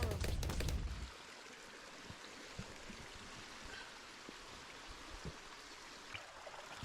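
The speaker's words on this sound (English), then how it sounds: "It's filling up with hot water pretty quick." Hot water pours steadily from a volcanic hot spring in a video game, a soft continuous stream and trickle after a loud burst at the start, with faint scattered clicks and quiet game ambience throughout.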